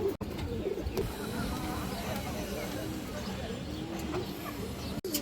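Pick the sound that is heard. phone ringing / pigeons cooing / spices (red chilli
pigeons cooing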